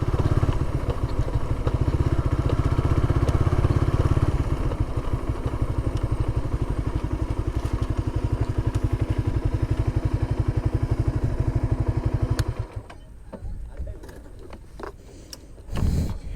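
A motorcycle engine idles loudly nearby with a steady rumbling throb, then shuts off, leaving faint ambient noise and a few clicks.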